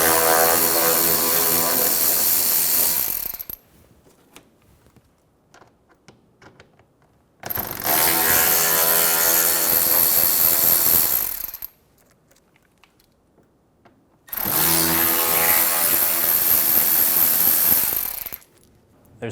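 A power tool backs T20 screws out of the inner fender liner on a 2012–2020 Chevrolet Sonic, sounding in three loud, close whirring bursts of a few seconds each, separated by quiet gaps.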